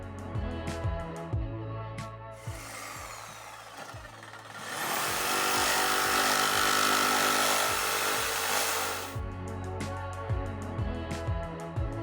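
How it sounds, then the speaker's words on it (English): Jigsaw fitted with a bimetal blade cutting an alloy motorcycle bracket, a sustained harsh buzzing cut running for several seconds in the middle, framed by lighter intermittent clicks and taps before and after. "Now I'm using a jigsaw with a bimetal blade to cut out the alloy bracket."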